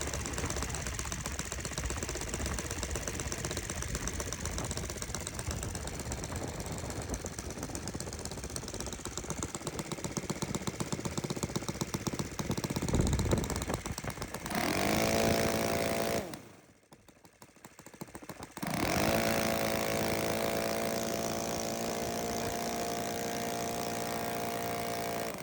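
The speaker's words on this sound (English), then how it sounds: "Engine's actually outside on the test stand. I just ran it." Engine running outdoors on a test stand, a steady dense mechanical roar that cuts out briefly near the end and then restarts with a rough, harmonic idle, loud and close with no talk.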